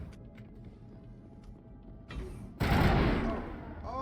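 Gunfire with shredder rounds in the video game Mass Effect: low ambient game noise, then a loud, sustained burst of shots starting partway through that fills the second half, with a short sharper noise just before it.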